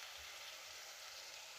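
Food fries in a pan with a steady, faint sizzle, a continuous bright crackling hiss that stays even throughout with no talking.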